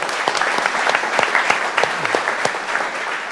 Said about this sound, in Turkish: abimize bir alkış alalım önce.